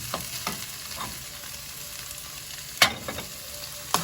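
Chopped fresh parsley goes into a hot pan of sautéing vegetables for a stovetop karnıyarık with eggplant, giving a steady low sizzle broken by a few soft stirring scrapes and one sharper clatter.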